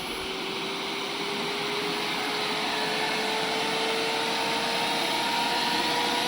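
A powerful cooling fan from a Fruition Designs KS1 kit roars at maximum speed, a loud, steady rush of air with a faint rising whine underneath.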